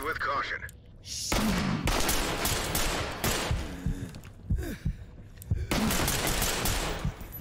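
Rapid gunfire bursts and scattered gunshots in the tactical shooter game Ready or Not, loud and close in several clusters over about seven seconds, with voices talking in between and over the shots.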